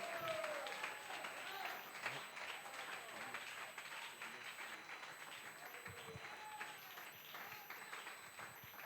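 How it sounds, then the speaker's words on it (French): A church congregation applauds to acclaim the Lord during a worship service, with sustained, dense clapping throughout and voices mixed into the crowd noise. "On acclame le Seigneur"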